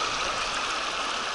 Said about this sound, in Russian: мы наберем чистейшей горной воды.